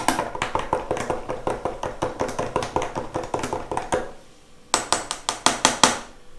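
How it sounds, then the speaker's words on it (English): A spoon stirs a frothy drink in a cup, making a quick, steady run of close, bright clinks against the sides, a brief pause, then another short burst of tinkling strokes. "But this one does require some stirring."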